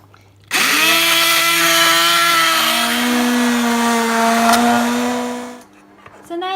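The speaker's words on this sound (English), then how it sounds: "for it to blend, I'm just going to use the hand blender" A hand blender starts abruptly and whirs loudly and steadily for several seconds while blending cauliflower soup, its motor pitch shifting slightly as it works, then cuts off.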